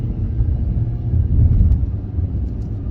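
Steady low road rumble and engine drone inside a moving 2022 Ford Maverick FX4 pickup with the 2.0 engine and the climate fan on low, fairly loud and continuous with no talking.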